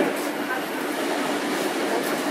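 Kyoto's Randen retro tram, a Mobo 21 streetcar, runs along its rails with a steady, fairly loud rolling rumble and rattle that continues without a break from start to end, and a hint of faint talk sits in the background.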